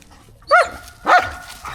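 A dog on a small farm with rabbits and pigs barks twice, about half a second apart, fairly close and loud, with a fainter third bark trailing off at the end; no one speaks.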